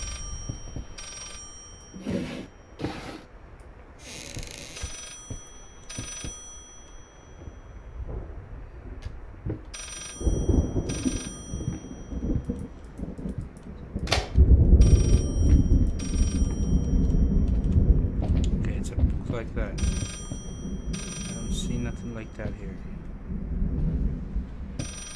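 A telephone in the horror game Layers of Fear rings in repeated sharp bursts at first. Deep rumbling and eerie ambient noise then swell and fill the rest of the stretch.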